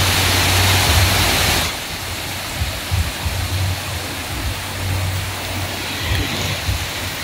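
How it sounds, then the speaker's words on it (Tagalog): Steady rain falling outdoors, a continuous hiss that starts loud and broad, then settles into a softer wash over a low humming drone with faint irregular thumps. "Ulan."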